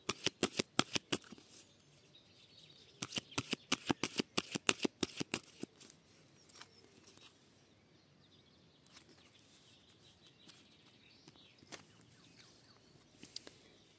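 An oracle deck of love cards is shuffled and cut in quick crisp riffling bursts, close and fairly soft, first a rapid run of flicks, then a second cluster, followed by quieter scattered card taps and a calm background.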